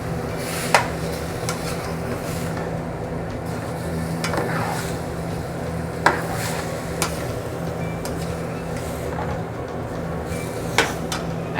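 Breadfruit and other ingredients sauté together in a pot in a Tobago kitchen for oil down, a steady low sizzle broken by a few sharp clacks of a spoon against the pot.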